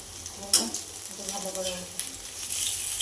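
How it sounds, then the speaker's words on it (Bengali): Food frying in hot oil over a medium flame, a steady crisp sizzle with a sharp spatter burst and scraping stirs of a utensil against the pan, close and fairly loud. "তেলটা ভালো করে গরম করে তারপরে একটু কমিয়ে একটু মাঝারি আঁচে করলে এটা কিন্তু ভেতর পর্যন্ত খুব সুন্দর ভাজা যায় আর মুচমুচ করবে"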